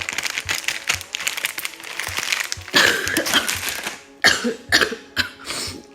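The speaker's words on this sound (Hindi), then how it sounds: "सॉरी, खांसी ठीक नहीं हुई" Repeated close-up coughing from a person with a cold, a run of rough bursts followed by a few louder, sharper coughs, with faint crinkling noises in the background.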